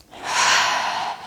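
One long, loud, airy breath is drawn close to the listener during a Pilates exercise, rising quickly and holding steady before tailing off.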